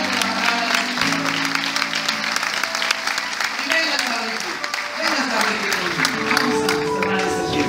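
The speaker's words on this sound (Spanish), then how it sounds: "Dale un aplauso fuerte a la palabra del Señor." A church congregation gives a loud round of applause for the word of the Lord. Dense, sustained clapping fills the space while a pastor keeps speaking over it.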